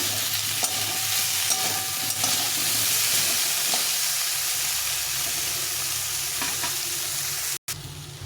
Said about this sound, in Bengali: এই আলু ভাজার তেলের মধ্যে একটু ভেজে নেব